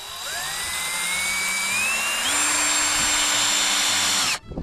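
A power drill bores through a piece of wood, its motor whining steadily and rising in pitch as the bit works through, loud and close, then cutting off abruptly at the end.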